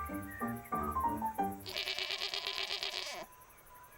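Goats bleat in the open, several wavering cries following one another, the later calls louder and more strained, with no voices over them.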